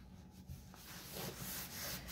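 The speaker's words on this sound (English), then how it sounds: "So right now I'm just wiping it on the fronts of these cabinets." Undiluted cleaner is rubbed by hand across greasy kitchen cabinet fronts, giving soft, close scrubbing and rubbing strokes in an uneven rhythm, fairly quiet and with no speech.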